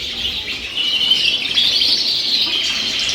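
A mealy redpoll chirps close by, a run of high, thin twittering calls delivered alone and fairly loud.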